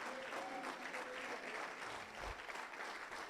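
A church congregation at a night vigil gives a loud standing ovation, dense clapping held steadily from start to end, with a faint tone running beneath early on.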